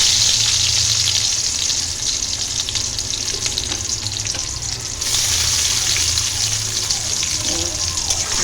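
Onions frying in a pan, giving a steady broadband sizzle that holds throughout at a fairly loud, close level, with a brief dip midway before the hiss returns.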